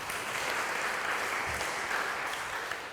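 A church congregation claps steadily through a worship service, a dense, even wash of many hands sustained throughout with no voices breaking through.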